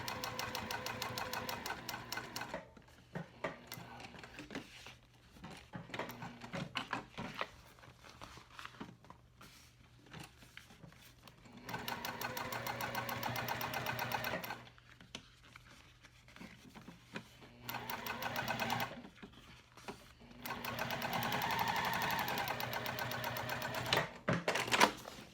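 A sewing machine stitching the seam of a mini box tote, running in rapid mechanical bursts of several seconds each, separated by quiet pauses, fairly faint and close with no talk.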